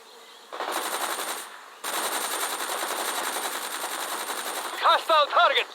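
Sustained rapid machine gun fire from the Soviet side in the World in Conflict strategy game, loud and continuous with a brief gap, ending in a few sharper bursts.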